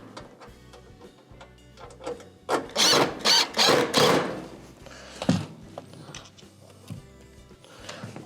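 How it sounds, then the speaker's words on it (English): A screw is driven back in while a metal panel on a Whirlpool stove is refitted, with a short burst of four or five quick rasping whirs, close by, between faint handling clicks. "Hold it and reinstall your first screw."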